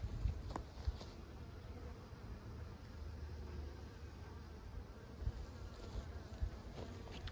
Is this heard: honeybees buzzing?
yes